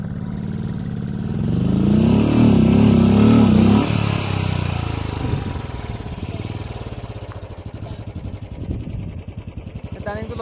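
A motorcycle on a mountain road near Gongkar La lake revs hard as three people push it uphill, the engine roaring loudly for a few seconds before dropping to a rapid, pulsing idle, with voices nearby.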